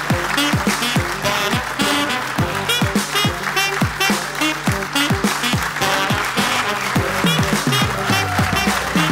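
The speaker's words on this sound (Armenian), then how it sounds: "բարձր ծափարություններ ունենք" Loud, sustained applause from a television talk-show studio audience fills the whole stretch without a break, with musical tones sounding beneath it.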